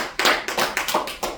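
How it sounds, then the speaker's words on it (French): A church congregation claps in a quick run of about six sharp, close claps, spaced fairly evenly, with no voices over them. "Acclamons la parole de Dieu."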